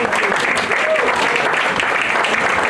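A theater audience at the Lambs claps warmly for the Rehearsal Club presenters, a dense, even wash of applause held steady throughout the short stretch.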